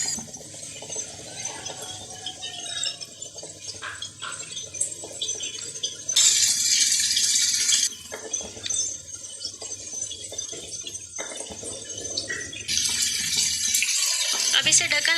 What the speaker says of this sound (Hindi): पानी तकरीबन हाफ लीटर के करीब इसमें डालेंगे।